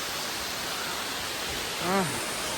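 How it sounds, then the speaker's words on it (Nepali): A steady rush of water from a waterfall in the middle of a forest in Nepal, a constant, even hiss throughout, with a brief voice sound near the end. "यहाँ चाहिँ यस्तो छ जङ्गलको बिचमा है, काँचो पानी झरिरहेको छ।"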